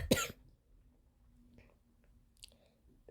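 A single sharp cough right at the start, close and fairly loud, from someone who is ill, followed by near-silence with faint small clicks and mouth noises.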